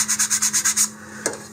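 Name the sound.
sanding model rocket fins by hand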